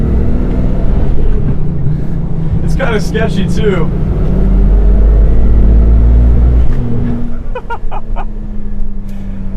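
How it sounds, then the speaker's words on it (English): Turbocharged 1988 BMW E24 635CSi accelerating uphill from second gear, a loud, close engine drone that climbs, then drops and rises again after a shift. A person speaks briefly over it. "I hope the turbocharged induction sounds are coming through on the camera with this vehicle"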